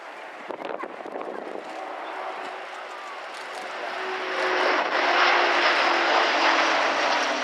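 Airbus A400M military transport, a four-engine turboprop, flying a display: a broad propeller and engine roar builds steadily and grows louder toward the end, with a commentator talking over it.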